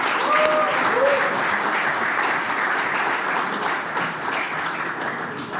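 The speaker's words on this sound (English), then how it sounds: "Give another round of applause, thank you to our mayor, Mayor Wu." A youth summit audience gives Mayor Wu a round of applause, a dense, loud burst of many hands clapping that holds steady across the whole stretch.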